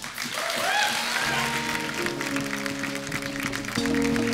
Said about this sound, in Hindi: एक बार अरुणा जी के लिए और बिंदु जी के लिए जोरदार तालियां हो जाएं।